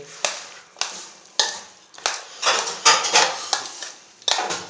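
A spoon mixes fruit cream chaat in a bowl, giving a series of sharp clinks and scrapes against the bowl, some spaced apart and some clustered, close and fairly loud with no talking.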